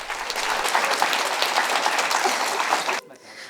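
A theatre audience applauds after a play as the troupe takes its bows, a full and lively burst of clapping that stops abruptly near the end, leaving a quieter room.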